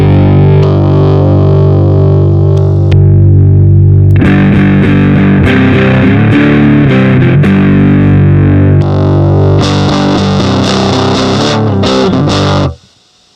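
A heavily distorted electric guitar runs through a Digitech Genesis 3 modeling processor with cabinet-size emulation on a 4x12 cab, chugging chords and riffing loudly for several seconds before cutting off, with no talking.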